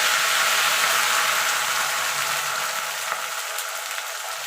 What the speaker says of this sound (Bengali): এখন বন্ধুরা এখানে আমার তেলটা হয়ে গেছে, এবার আমি নিম পাতাটা ভেজে নেব।